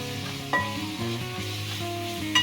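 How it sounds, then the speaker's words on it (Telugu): Onions sizzle steadily in hot oil with turmeric and ginger garlic paste, with a couple of spoon scrapes against the pan breaking the constant frying hiss. "ఇది పచ్చివాసన పోయేంత వరకు ఫ్రై చేసుకోవాలి."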